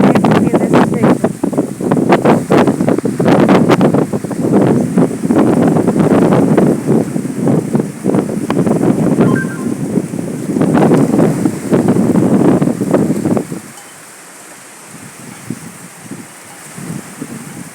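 Strong wind blows through a tropical almond tree, loud gusty buffeting and rustling that booms against the microphone for most of the clip before easing into quieter movement.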